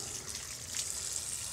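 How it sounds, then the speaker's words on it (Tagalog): Strong water gushing steadily from a shower, bidet or faucet in a campsite comfort room at a family camping farm, a continuous close hiss with no talk. "malakas yung shower, malakas yung bidet, malakas yung gripo"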